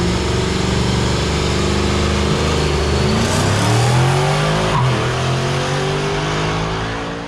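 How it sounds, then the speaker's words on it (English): Ford F-150 truck engine revving hard and accelerating at a street racing event, a loud close drone climbing in pitch through a gear change before easing off at the end. "And Sasha brought out his fresh F-150 just to get a baseline tune."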